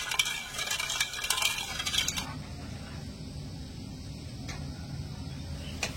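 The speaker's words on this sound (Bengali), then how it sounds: "ভালো করে নেড়ে ছেড়ে পাতলা একটা চিনির রস বানিয়ে নেব।" A spoon scrapes and clinks against a pot as sugar, water and cardamom are stirred into a thin syrup for semolina jalebi, brisk close stirring for two seconds, then quieter kitchen sounds.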